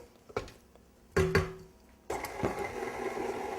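An electric mixer stirring cake batter with buttermilk for a pineapple upside-down cake, heard as quiet clatter and bumps at first, then a steady low whirring that settles in for the final second and a half.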